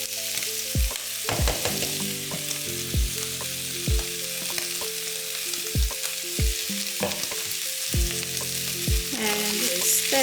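Onions fry in a pan with spice mix for beef curry, giving a constant sizzle broken by occasional stirring scrapes, heard under background music.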